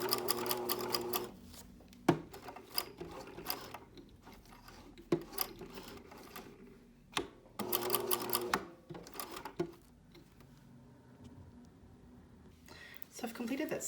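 A sewing machine stitching a broad sleeve band in quick bursts, each run of rapid mechanical whirring separated by pauses and clicks, with a soft voice talking in between.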